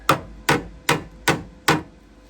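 Five evenly spaced hammer taps on a tack-welded car body panel during a metal repair, crisp close metallic knocks about half a second apart with no voices.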